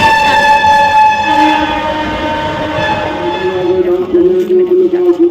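Inside a fairly empty moving train near Titagarh, a loud sustained horn sounds over the rumble of the carriage, its tone shifting and fading as the wheels keep rolling.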